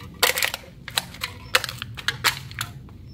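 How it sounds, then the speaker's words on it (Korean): An empty aluminium drink can being squeezed flat by hand, giving a string of sharp crinkling crackles and pops in quick, uneven succession, close up with no talk. "캔도 그냥 버리기보다는 이렇게 꼭꼭 눌러서 부피를"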